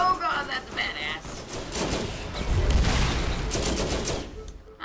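A grenade blast in Borderlands amid rapid gunfire, heard as a heavy, booming burst that follows bursts of shots. Players chat over the action.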